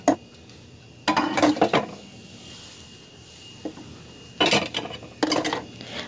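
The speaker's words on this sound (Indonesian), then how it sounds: "sekarang itu saya mulai untuk nyuci panci-pancinya ya, dan wajannya" Pots and a wok being washed by hand, with metal cookware clanking and scraping in short bursts of clatter separated by quieter gaps, close by and with no talk.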